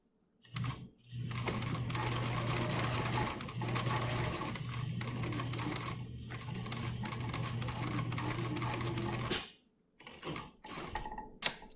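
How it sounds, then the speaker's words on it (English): A sewing machine back stitches the hem of a cloth napkin with mitered corners, a steady close whirring run of rapid stitching lasting several seconds, stopping briefly, then ending with a few faint handling sounds afterward. "I'm going to finish up where I started, and I'll just back stitch and be done"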